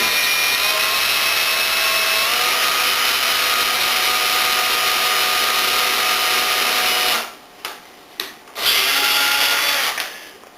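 Power drill with a bit boring a pilot hole for a screw in the wooden frame of a mini planter greenhouse: a steady, loud whine for about seven seconds, a brief stop, then two short bursts and a final run.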